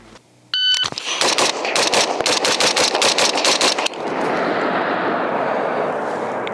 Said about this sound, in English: You engage the first target with 2 rounds, the middle target with 2 rounds, and then the last target with 4 rounds